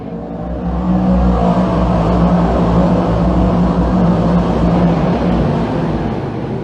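DIRTCAR 358 modified race cars roar loudly as the pack accelerates on a restart at Can-Am Speedway, a dense, sustained engine drone that builds within the first second and holds steady with no talk over it.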